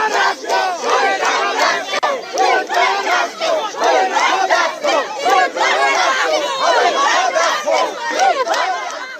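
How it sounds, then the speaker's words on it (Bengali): Crowd of women lawyers chanting a slogan in unison outside a court during a protest, loud rhythmic repeated shouts that swell and dip in steady waves from many voices close by. "উই ওয়ান্ট জাস্টিস এই স্লোগান তো চলতেই থাকে মহিলা আইনজীবীদের তরফ থেকে"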